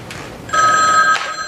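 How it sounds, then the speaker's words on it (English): A telephone bell rings once in a short, loud trill close by, with no voices. "The phone is ringing."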